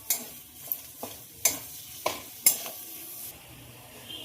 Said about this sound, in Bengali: ধনে পাতা কুচি দিয়ে আবারও খুব ভালো করে নেড়ে দেবো